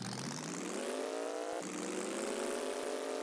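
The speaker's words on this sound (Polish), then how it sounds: "Taki jakby przyspieszony dźwięk silnika ma." The engine of a Hot Wheels Bone Shaker car in a video game revving with a rising pitch, sounding unnaturally fast and synthetic, steady and loud throughout.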